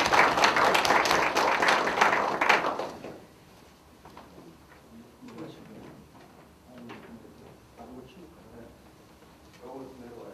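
Audience applause welcoming a lecturer, Nam Young-shin, to a lecture: a loud burst of clapping for about three seconds that then stops, followed by quieter room noise and scattered sounds.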